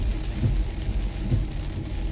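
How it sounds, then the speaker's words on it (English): Heavy rain pours steadily outside a home where a car sits parked, a dense, constant hiss with a deep low rumble underneath and no voices. "it's raining pretty heavily right now"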